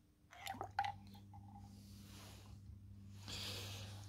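Glass marble rolled gently into water in a measuring container, a soft plop and brief ringing drip near the start, then faint trickling and settling, quiet and close.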